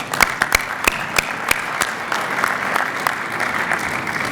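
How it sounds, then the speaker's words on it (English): A crowd at a county officials' fall conference general session in Oklahoma applauds, a sustained bed of many hands with several sharp, close individual claps standing out early on, then settling into an even, moderate clapping texture. "I want to give him a hand of applause,"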